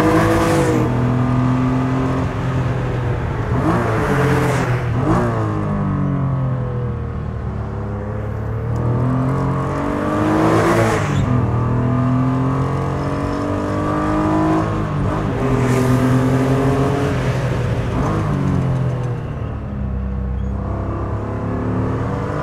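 Lister Bell STR, a Lancia Stratos replica kit car, driven with its engine loud and close throughout, the note swelling in repeated surges as it revs up and eases off, no voices over it.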